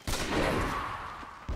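A sniper rifle shot in the Dota 2 video game lands as a loud, close blast that rings on briefly, followed by a second burst at the very end.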